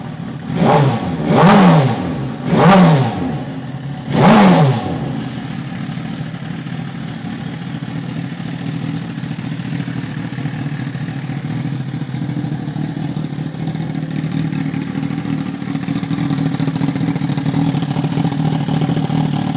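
A 2007 Suzuki GSX-R 1000 motorcycle engine gives three sharp, loud throttle blips in the first five seconds, each rising and falling quickly, then settles into a steady idle that carries on alone to the end.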